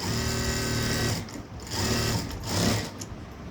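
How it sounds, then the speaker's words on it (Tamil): A sewing machine stitches a blouse in steady, close, whirring runs, stopping briefly twice between bursts of stitching and then resuming, with no talk over it. "இன்னொரு தடவை தையல் போடணும்"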